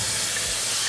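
An empty pan heats on a high flame before bracken fern is stir-fried, giving a loud, continuous, even hiss that fills the short moment with no talk.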